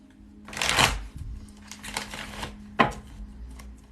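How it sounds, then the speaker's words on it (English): Tarot cards being shuffled up close in a few quick riffling bursts, with a sharp snap near the end and a faint hum underneath. "Shuffle the cards, cut the deck, clear the energy, draw two."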